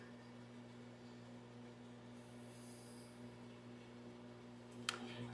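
A microwave oven running with an onion heating inside, a faint steady hum with a brief soft click near the end, no talking.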